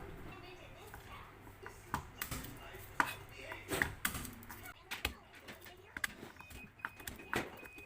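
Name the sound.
chopping garlic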